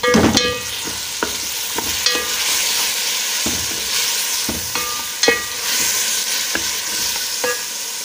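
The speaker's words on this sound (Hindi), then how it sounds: "हम डालेंगे हरी मिर्च का पेस्ट जो हमने रेडी किया था। इसे हम 2 से 3 मिनट के लिए भून लेंगे।" Green chili paste fries in hot oil for beef yakhni pulao, a steady close sizzle broken by sharp scraping clicks of a spoon stirring the pan at irregular intervals, with no talking.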